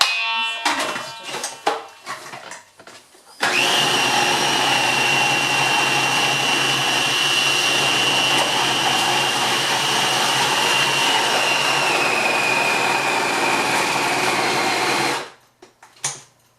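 A food processor whirs continuously while chopping vegetables for cultured veggies, a loud steady motor drone lasting about twelve seconds with a slight pitch drop near the end, preceded by brief clattering and followed by quiet.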